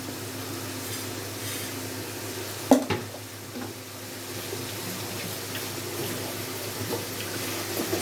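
Small fish and masala with cumin powder fry and get stirred in a pan, a low steady sizzle with a sharp clatter of the spoon near the start and softer scraping afterward.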